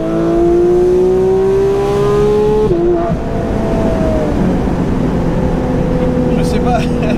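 Porsche GT3 RSR-style road car with a full intake system, its engine revving loud and close, rising tones climbing steadily then dropping with a gear change, staying strong throughout.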